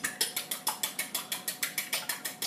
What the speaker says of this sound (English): Just take a fork, give it a bit of a whisk up.